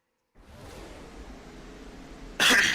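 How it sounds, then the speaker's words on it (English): Soft steady hiss, then one abrupt, loud cough bursts out near the end. "sorry for coughing in your ears"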